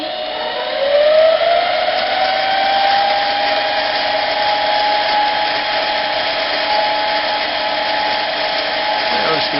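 A Harbor Freight 7x10 mini metal lathe spins up to about 600 RPM, giving a steady whining motor hum with a rising tone at the start, then an even, continuous drone throughout.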